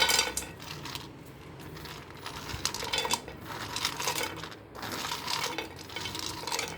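Makhana (fox nuts) tumble into a pan for a healthy almond drink mix, giving a steady run of light, dry rattling and clinking as the puffed seeds scatter and settle, close and moderately loud with no talk.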